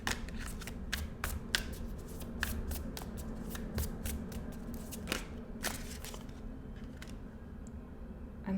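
Tarot cards riffling and shuffling in a rapid run of crisp, papery flicks and taps, close and fairly loud, continuing steadily without speech.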